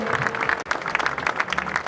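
A large crowd of farmers rallying in Rovigo applauds, steady dense clapping from many hands at moderate distance, lasting a couple of seconds with a brief dip partway through.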